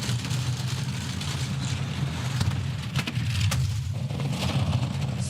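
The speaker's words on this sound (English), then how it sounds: "skidding sideways into the Kreisel" Monobob sled skidding sideways on the ice track at Altenberg during a women's world championship heat, a loud continuous rumbling scrape with rushing noise and brief sharper hits.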